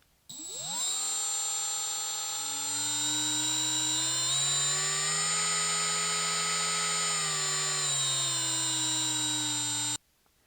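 A Milwaukee M12 cordless right angle die grinder spins up from rest into a steady high-pitched whine, holds for about nine seconds with a slight speed change from its variable trigger, then stops abruptly, with no talking.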